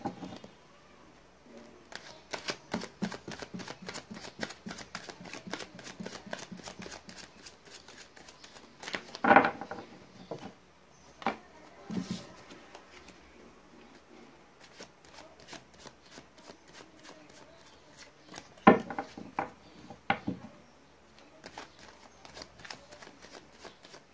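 Tarot cards are shuffled at length for a reading, soft, repeated riffles and papery slaps close to the mic in a quiet room, with a few sharper snaps along the way.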